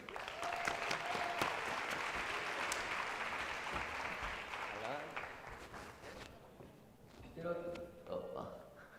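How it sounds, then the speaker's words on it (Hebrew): A live audience at a UX design conference claps in a dense, steady burst for several seconds as a speaker takes the stage, then the applause fades and scattered sounds follow. "קבלו בבקשה במחיאות כפיים סוערות את עדי בינדר."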